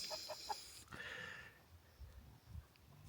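Chickens clucking and squabbling in a farmyard, with a few short sharp calls early on, then quieter low rustling and scuffling.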